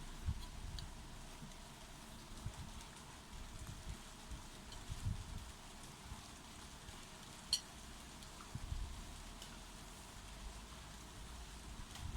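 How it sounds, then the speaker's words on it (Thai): Faint, steady rain patter in a quiet setting, soft and continuous with occasional slightly louder drops. "ฝนตกตั้งแต่ช่วงเย็นแล้วแหละ"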